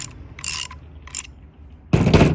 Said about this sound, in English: with your ratchet or your adjustable wrench, just go ahead and tighten it down